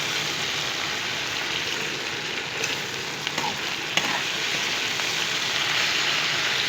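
Potatoes and okra frying in a pan for aloo bhindi, a dense continuous sizzle with occasional light scraping taps from stirring, close and steady throughout.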